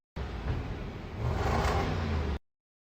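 A car engine runs and the car drives off, a steady close whirring rumble that swells briefly, then cuts off abruptly.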